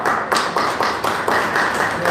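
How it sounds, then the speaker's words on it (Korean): Hand clapping from an audience greeting a speaker at a Korean academic conference, a dense steady patter of many hands held close and loud over two seconds. "자, 박수로 모시겠습니다."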